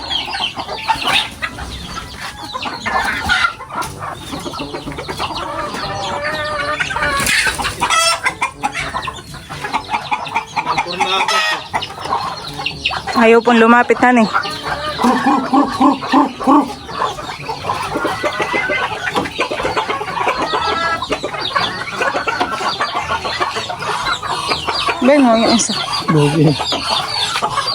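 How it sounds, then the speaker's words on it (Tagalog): Native hens cluck and squawk loudly and persistently up close, with bursts of agitated calls, while people talk briefly over the noise. "Yun daw po yung aming kakataying manok"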